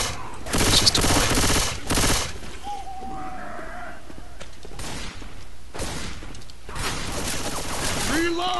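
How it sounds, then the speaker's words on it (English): Gunfire in the zombie shooter Left 4 Dead 2, fired at a sign in a wooded level: loud bursts of rapid shots come in several separate volleys amid game noise and faint in-game effects. "Lewis is shooting at the sign."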